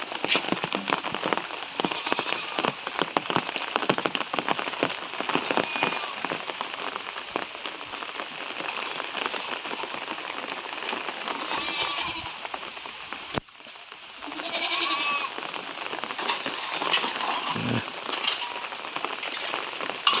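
Heavy rain falls steadily on surfaces in a village setting, a dense continuous patter with scattered louder drips and no speech.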